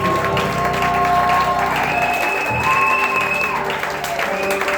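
A church congregation at a spiritual gathering in Gabon applauds and cheers for the Lord Jesus, a loud, sustained wash of clapping with tonal sounds running over it and no pause.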